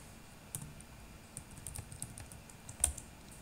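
Light keystrokes on a computer keyboard while a device name is entered during an ESP32 IoT setup, a handful of soft scattered taps with one sharper click near the end, faint and without speech.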